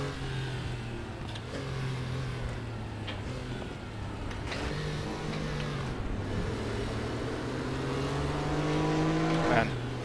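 Rear-engine Porsche Group C race cars run side by side in RaceRoom, their engines droning steadily and rising in pitch toward a louder rev near the end, with a voice talking over the racing.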